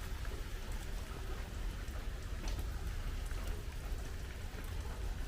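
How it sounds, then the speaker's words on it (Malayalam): Light rain falling around a house after a thunderstorm eases, a steady soft hiss of drops on surfaces that never lets up, with no voices. "മഴയൊക്കെ ഒന്ന് ശാന്തമായി, അന്തരീക്ഷവും ശാന്തമായി, മഴ കുറഞ്ഞു."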